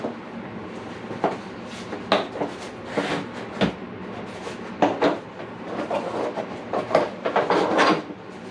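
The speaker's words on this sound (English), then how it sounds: "I'm going to double check that with the other torque wrench." Ratcheting clicks of a torque wrench tightening bolts on an engine long block for a Subaru build: a series of sharp, close clicks in irregular groups, with a faster cluster near the end over a steady background hum.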